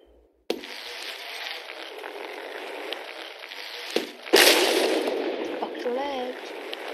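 A few sharp, loud shotgun blasts from the Happy Wheels video game burst out over a steady wash of noisy game sound, with a voice present.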